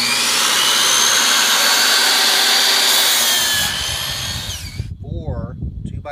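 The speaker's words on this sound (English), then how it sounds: "not a table saw, a miter saw." A miter saw cuts through 2x4 lumber, a loud continuous high-pitched whine and rasp lasting about four seconds before it fades and spins down, followed by a voice speaking.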